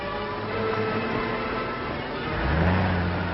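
A car engine revs and roars steadily in an old adventure serial, loud and continuous with a rising surge near the end.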